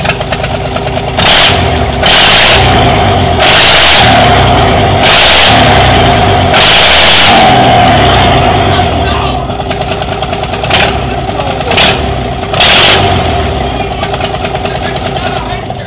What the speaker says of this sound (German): jetzt machen wir den Soundcheck komplett ohne Krümmer bei einem Bus